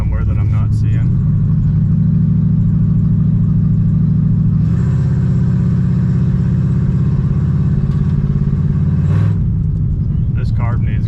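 A 1959 or 1960 Pontiac Bonneville convertible barn find idles with a steady, heavy low rumble, its carburetor badly in need of rebuilding and the engine full of blow-by, a brief rev in the middle, with someone talking over it.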